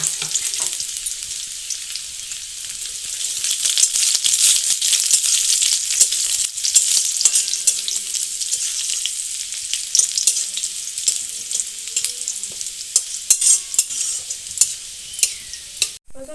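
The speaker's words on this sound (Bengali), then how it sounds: "রসুন কুচিটাকে ভালো করে পুড়িয়ে নিতে হবে" Minced garlic frying hard in oil for a Bengali fish curry, an intense bright sizzle throughout with frequent clicks and scrapes of stirring close up.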